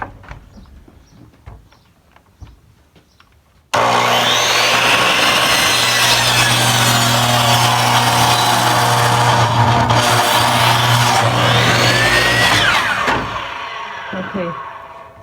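A power saw cuts through wood for a zome structure, a loud steady whine and grinding roar lasting about nine seconds after brief talk and handling noises, tapering off at the end.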